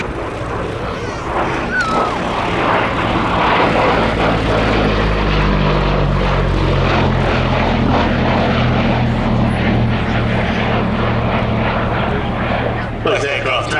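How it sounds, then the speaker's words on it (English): Two Second World War propeller fighters, a Supermarine Spitfire Mark 5 among them, taxi along a flight line with a loud, steady piston engine drone and propeller thrum, close by. A voice talks over it. "Both aircraft taxiing along the flight line."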